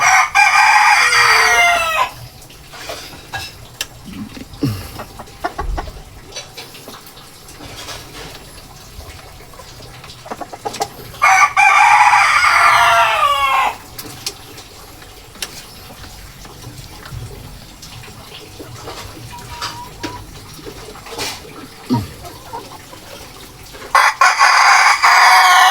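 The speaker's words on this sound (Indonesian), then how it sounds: "Inilah teman-teman aktivitas pejantan yang merah tadi ketika di kandang." An Elba rooster in its pen crows loudly three times at intervals, with soft clucking and quiet farmyard rustling in the gaps between calls.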